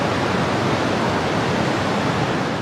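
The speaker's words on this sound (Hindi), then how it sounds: "आप सरस्वती नदी की आवाज़ सुन लीजिए" Steady, dense rushing of the Saraswati river flowing, a loud continuous broadband roar close by with no pauses or voices.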